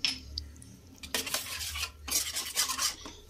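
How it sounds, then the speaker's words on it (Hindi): A metal spoon scrapes and clinks around a pan of fried potatoes with tomato, chili, cumin and spices, several bursts of stirring with short pauses, close and clear with no voices. "तो चलिए मैं इसको थोड़ा फ्राई कर लेती हूँ।"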